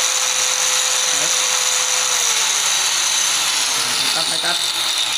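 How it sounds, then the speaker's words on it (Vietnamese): An electric drill and cutter run from a 12V-to-220V pure sine inverter, giving a steady high-pitched motor whine that shifts in pitch partway through, heard close and loud with someone talking over it. "cái máy khoan này mọi người, máy cắt này."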